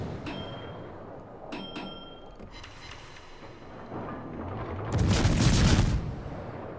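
Warship guns shelling a fort in World of Warships, with a few sharp reports early on, then a loud, dense blast of gunfire rolling in near the end over steady battle rumble.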